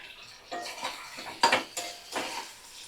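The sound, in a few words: stirring and frying masala with potatoes in a pan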